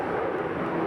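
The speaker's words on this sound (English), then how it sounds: "as some may know, planes do fly overhead" An airplane passes overhead above the Bronx River Houses and gives a steady, broad roaring rumble that fills the whole short moment with no talk.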